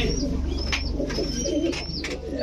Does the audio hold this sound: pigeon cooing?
yes